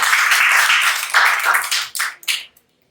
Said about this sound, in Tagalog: Isa pa, bigyan natin ng palakpak ang aming Panginoon.